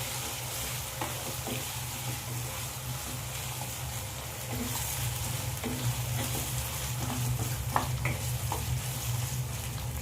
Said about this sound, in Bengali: দিয়ে আবারও আমি ভালো করে মশলার সাথে মটনটা ভেজে নেব।